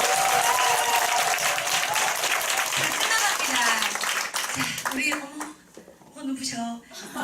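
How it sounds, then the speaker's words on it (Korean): Audience applause at a group business meeting in a building hall, a dense burst of clapping that fills the first few seconds and then thins out and fades as a presenter's voice carries over it. "큰 박수 주세요"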